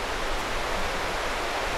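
Water flowing from Chiklihole dam in Coorg, Karnataka: a steady, loud, broadband rush of falling and churning water with no pauses, close and continuous.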